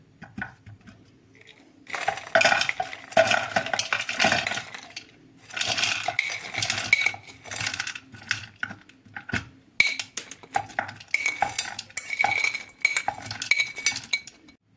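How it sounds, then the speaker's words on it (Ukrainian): Clinking and scraping of a metal knife against a bowl, with hard frozen berries rattling and knocking in irregular bursts, close up. "Перекладаю це все ще з ось таким ножем"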